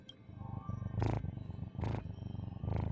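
A house cat purrs close to the microphone, a low pulsing rumble broken by three short bursts of rustling noise.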